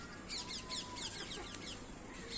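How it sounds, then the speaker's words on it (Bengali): Egg-laying hens clucking on a rooftop on a rainy evening in a steady, repeated series of short calls over a constant background hum, fairly close and moderately loud. "এই সবগুলো মুরগি আমার ডিম পাড়া মুরগি।"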